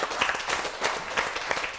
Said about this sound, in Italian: C'è anche l'applauso che parte dalle retrovie.